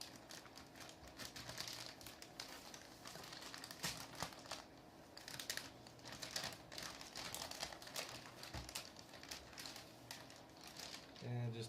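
Plastic packaging bag crinkling and rustling continuously while a new replacement LCD screen for an HP NC6400 laptop is unpacked, close and moderately loud, with scattered sharper crackles throughout.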